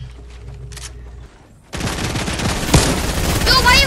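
Gunfire erupts in the video game Fortnite: after a quieter stretch, a sudden dense barrage of rapid shots bursts in and keeps going loud and close, with one sharper crack partway through.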